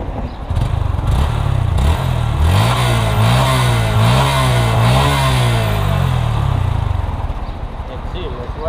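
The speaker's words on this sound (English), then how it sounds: "this is how the stock exhaust from 2017 Honda Grom sounds." A stock exhaust on a 2017 Honda Grom motorcycle idles then revs up and down several times, the exhaust rising and falling in pitch, loud and close, before settling back.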